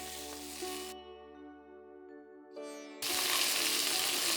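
Curry leaves, green chilies and coriander stems fry in hot oil with a bright crackling sizzle at the start, a quieter stretch of steady tones, then a sudden loud burst of sizzling.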